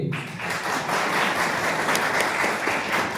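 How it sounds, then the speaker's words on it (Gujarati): Men at an Adivasi community gathering in Ghoghamba applaud the women, a loud, dense burst of many hands clapping together that holds steady throughout. "તો ખરેખર બહેનો માટે એક વખત ભાઈઓ તાળી પાડવી જોઈએ"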